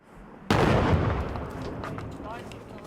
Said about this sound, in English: We just heard the sound of an explosion